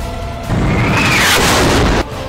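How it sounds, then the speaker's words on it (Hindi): A rocket strike in Gaza sets off an explosion, a heavy rumbling blast lasting about a second and a half that swells loudly and then cuts back to quieter background noise. "गाजा में ये धमाका PIJ ग्रुप यानी पैलेस्टाइन इस्लामिक जिहाद के रॉकेट से हुआ है"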